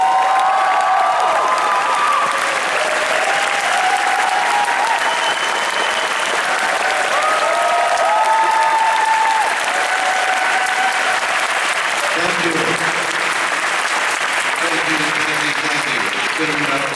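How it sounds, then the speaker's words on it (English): A large Comic Con crowd welcomes Edward James Olmos to the stage with sustained loud applause and cheering, with scattered shouts and voices mixed in. "Give him a big round of applause."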